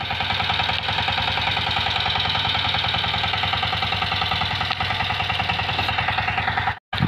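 A tractor engine runs steadily nearby in a potato field during digging, its low rhythmic chugging constant throughout with no voices.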